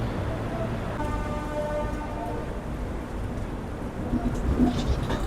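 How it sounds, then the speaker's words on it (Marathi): Steady rain and rumble during a train journey departing Mumbai Central in the monsoon, a continuous broadband wash with a faint horn-like tone, moderately quiet and without talk. "आणि पाऊस पण मस्त सुरू आहे।"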